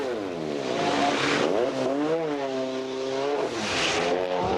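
A Porsche rally car at the 1994 Circuit of Ireland Rally, its engine revving hard and loud up and down through the gears close by, a continuous roaring whine with rising and falling pitch.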